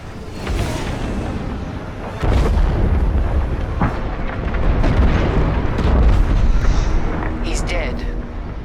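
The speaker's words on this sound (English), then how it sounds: "The frigate is about to explode." Huge frigate explosion in the Star Wars Squadrons space-combat game, a loud sustained rumbling blast with crackling bursts and booms rolling on for several seconds, swelling again midway, with distorted voice chatter faintly mixed in.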